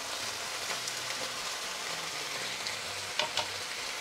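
Chicken sizzles steadily in a hot pan, a dense crackling hiss throughout, with a couple of brief clinks near the end.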